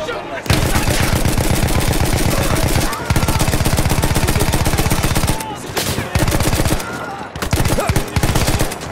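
A turret machine gun in Battlefield 1 fires long, rapid, relentless bursts, loud and close, broken by a few short pauses, with battlefield noise and occasional voices underneath.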